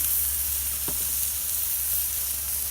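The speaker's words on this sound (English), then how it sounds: "Fry up, sizzle, sizzle, sizzle. Just right on the grill." Steady, soft sizzling hiss of bacon frying on a charcoal grill, a continuous crackle with no voices, fairly close and even throughout.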